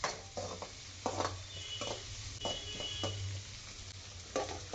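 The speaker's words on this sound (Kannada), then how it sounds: "ಸ್ವಲ್ಪ ಇದು ಎಣ್ಣೆಲಿ ಫ್ರೈ ಆಗಲಿ." Onion and green chillies sizzle in hot oil in a home kitchen pan while a Kannada chicken curry is made, with a steady low frying hiss broken by irregular scrapes and clinks of a utensil against the pan.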